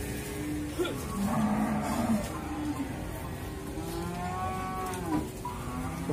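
Simmental cattle moo repeatedly at a moderate distance, long low calls rising and falling over a steady outdoor background.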